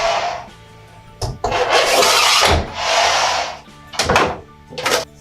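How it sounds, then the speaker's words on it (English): A Dimatur Keencut cutter's scoring blade drawn across an ABS sheet, a few scoring passes heard as loud, close scraping strokes separated by short gaps and ending in quicker, sharper strokes, with no talking. "disengage the ratchet, engage the scoring blade, push in, and a few scores"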